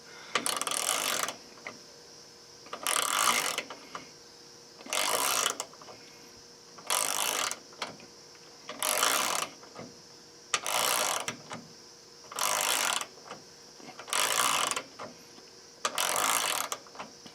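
A 90-tooth GearWrench ratchet clicking in repeated bursts, about nine rapid ratcheting runs evenly spaced with brief pauses, close and crisp.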